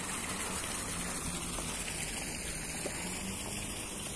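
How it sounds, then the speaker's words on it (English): Waterfall at a Benidorm spa hotel, a steady broadband rushing of falling water that fills the whole moment evenly, continuous and moderately near, with no voices. "Another waterfall there."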